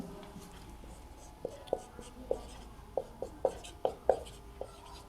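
Pen or chalk writing down a given set during a maths lesson, a run of short scratchy strokes and taps spaced irregularly over a faint background hum, with no talk.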